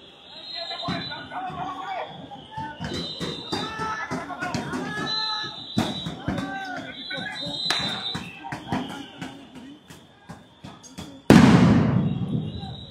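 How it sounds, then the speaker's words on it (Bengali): Police sound grenades go off at a street protest near a parliament building, with sharp bangs scattered among crowd chatter and shouting and a loud, close blast near the end. "আমরা দেখছি সেখানে বেশ কয়েকটি কিন্তু সাউন্ড গ্রেনেড নিক্ষেপ করা হচ্ছে"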